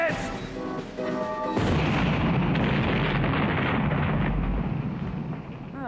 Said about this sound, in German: Wir sprengen jetzt!